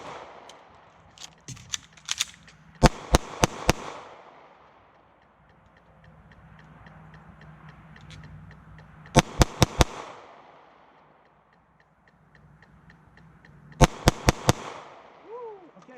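Three bursts of several sharp gunshots each during target shooting, spaced several seconds apart, loud and close with quiet gaps and faint background noise between.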